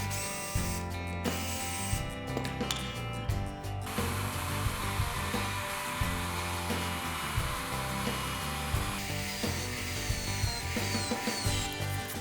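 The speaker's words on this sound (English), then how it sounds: "I drill a hole in it and press fit this coupling nut." Power drill cutting a hole in material for a homemade lathe, a continuous loud whirring motor drone with steady mechanical hum throughout, no talking.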